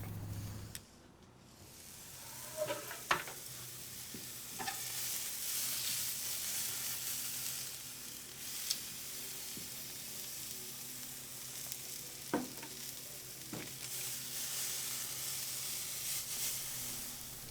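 A rolled flank steak sears on a Big Green Egg ceramic grill, giving a steady broad sizzle with occasional sharp pops and clicks as it is turned, no talking.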